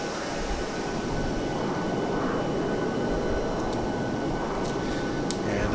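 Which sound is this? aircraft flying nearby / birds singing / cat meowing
aircraft flying nearby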